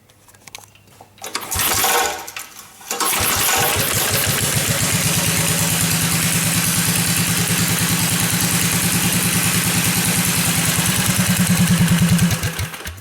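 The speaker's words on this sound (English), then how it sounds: "here's a quick cold start. Chokes on." A small vintage motorized bike engine cold-started on choke sputters briefly, then catches and runs in a fast, steady putter, idling loudly with a slight rise near the end.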